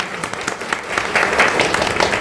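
An auditorium audience claps for an award presented on stage, a short burst of many hands that swells and grows louder partway through.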